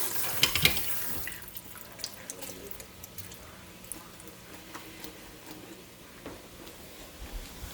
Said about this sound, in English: I'm going to give them just a little rinse.